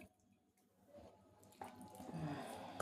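Water left in a grinder jar poured into chapati dough made with drumstick leaves, a soft trickle that grows into a steady, close splashing pour.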